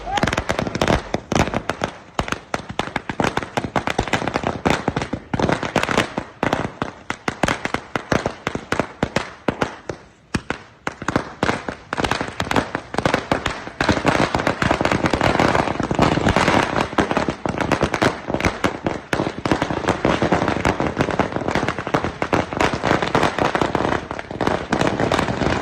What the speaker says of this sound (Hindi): हिडमा की मौत के बाद छत्तीसगढ़ में पटाखे फोड़े गए